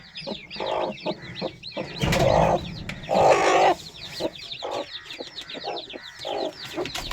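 A hen among her newly hatched chicks clucks in low, repeated bursts at close range, while the chicks peep constantly in high, wavering chirps.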